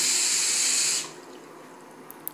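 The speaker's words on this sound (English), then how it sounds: "the water pressure in our faucet is too strong" Water gushes hard from a bathroom faucet in a loud, hissing stream for about a second, then cuts off abruptly, leaving a quiet room with a couple of faint drips.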